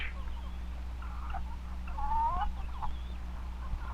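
Hens clucking softly in short bursts over a low background hum, with a few brief higher chirps; moderately near and fairly quiet.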